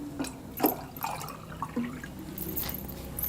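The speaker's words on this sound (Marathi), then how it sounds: "एक मी ताट ठेवते आणि ताटावरती आपल्याला पाणी घालायचं आहे." Water poured onto a plate set as a lid over a pot of chicken cooking on a wood-fired stove, with short splashing and dribbling bursts and small clinks, fairly close and soft.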